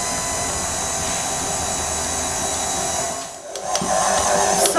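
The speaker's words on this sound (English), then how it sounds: "add the flour and keep on mixing another minute on low speed." An electric mixer on low speed works flour into cookie dough with a steady whirring drone, close and loud, shifting and dipping briefly near the end before picking back up; no one talks.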